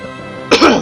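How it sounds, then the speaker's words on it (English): A single sharp, harsh cough bursts out loudly and near after a quiet moment, followed by a short rough throat-clearing rasp. "so much coughing"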